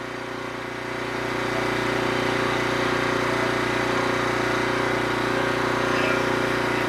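A Norwood HD36v2 sawmill's hydraulic log turner runs with a steady engine hum that swells after the first second and then holds a loud, even drone nearby.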